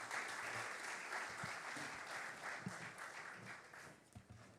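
An audience at the global launch of the Biennial Jamaica Diaspora Conference applauds the keynote speaker, a steady round of clapping from a crowd that tapers slightly toward the end.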